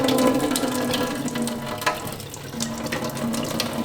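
Cooked noodles drain through a small-holed strainer, a steady watery pour and trickle running throughout with faint metallic clinks, close and continuous with no talking.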